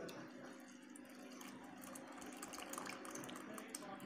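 Cooking water is poured off boiled dal in a kitchen, giving a faint, steady trickle and splash of liquid that runs continuously and quietly, with no talking.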